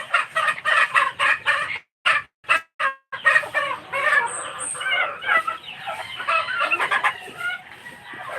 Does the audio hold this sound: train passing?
no